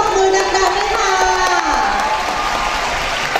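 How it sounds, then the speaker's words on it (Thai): Crowd applause and cheering for a student marching band at a school band competition, loud and continuous for a few seconds, with a voice over the clapping. "ขอเสียงปรบมือดังๆให้ค่ะ"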